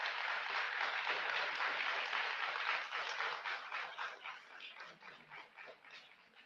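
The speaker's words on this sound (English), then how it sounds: "Let that be the last clapping for the rest of the session" An audience in a council chamber applauds during a city budget presentation session. The clapping is dense and sustained, with many hands at once, and eases off slightly toward the end.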